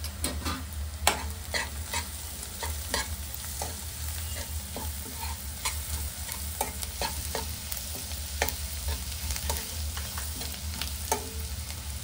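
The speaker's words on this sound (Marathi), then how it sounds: "आता कांदा चांगला शिजवून घेऊया।" Onion frying in a pan for a Maharashtrian prawn and baby fenugreek curry, with a steady close sizzle under repeated scraping stirs from a spoon, continuous throughout with no talking.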